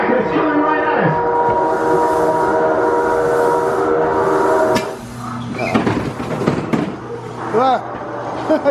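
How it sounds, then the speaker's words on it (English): A train approaches on the track, with a long, loud horn-like tone for about five seconds that gives way to rumbling and clattering of the cars drawing near. "Control, we have a train on our track and it's coming right at us."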